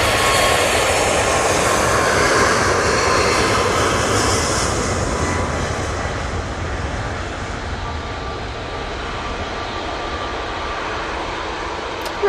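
A Ryanair Boeing 737 MAX 8 on its takeoff roll at Manchester Airport, a loud steady broadband jet roar that slowly eases as the aircraft moves away, with no speech over it.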